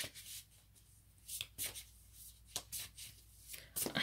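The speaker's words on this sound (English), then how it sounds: "And as I'm shuffling the cards" Tarot cards are shuffled close up in several quick papery bursts with brief pauses between them, with no talking.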